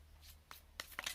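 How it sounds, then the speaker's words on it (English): Tarot cards being shuffled up close, a few quiet papery riffles and snaps in quick bursts, with no talking. "Let's just shuffle."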